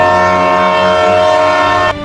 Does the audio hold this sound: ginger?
no